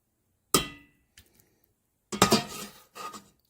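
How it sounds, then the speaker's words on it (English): A utensil scrapes and clinks against a pan while shrimp Newburg sauce with egg yolk is stirred on the stove: one sharp clank, a faint tap, then a cluster of louder scraping knocks, with no voices. "Just keep stirring so that your eggs don't curdle or scramble"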